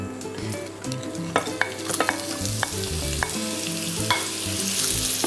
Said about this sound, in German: Dann gebe ich jetzt meine Zwiebeln in die Pfanne.